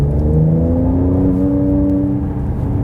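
Engine of a Mercedes C43 AMG revving in Sport Plus mode, a loud, close, steady rising drone with clear harmonic tones that climb and then hold, heard alone.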